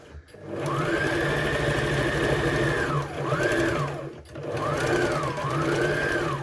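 A sewing machine stitches elastic onto a tiered maxi skirt in two long bursts with a brief pause between, its motor whirring loudly and rising and falling in pitch as it speeds and slows.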